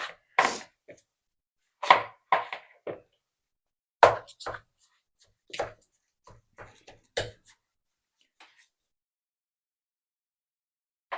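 Meatloaf mixture with pork rinds being mixed by hand in a bowl: irregular dull thumps and knocks in scattered clusters, loud and close, separated by silent gaps.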